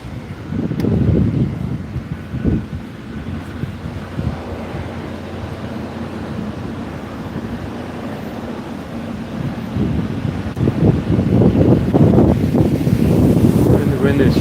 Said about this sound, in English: And the wind has shifted directions.